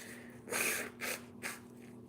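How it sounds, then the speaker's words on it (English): Three loud, wet bursts of nose blowing, the first long and the next two shorter, close up with no talking. "need to blow my nose, yeah."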